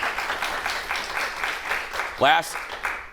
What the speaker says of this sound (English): tepid applause from the audience on that one